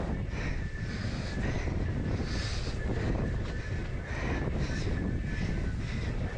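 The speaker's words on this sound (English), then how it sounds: "And more wind out here, down here." Steady wind roars across open water during paddle foiling, a dense, continuous rush of buffeting noise on the microphone with no letup, and no voices heard.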